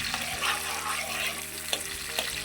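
Finely chopped garlic, about two tablespoons, frying in oil in a pan while being cooked to light brown, a steady close sizzle with a few soft stirring knocks and no talk.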